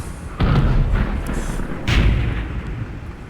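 Artillery shells land in a tank video game near an AMX 30 tank: two deep, booming impacts about a second and a half apart, each with a rumbling tail over steady low background noise.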